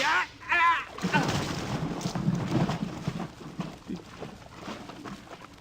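A gunshot sound effect in an old-time science-fiction radio drama: a single loud blast that follows a brief voice and fades into a rumbling decay.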